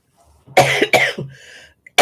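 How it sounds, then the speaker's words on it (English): Two close, harsh coughs in quick succession, then a short raspy breath and the start of another cough. "No, I've not got COVID, just got a cough."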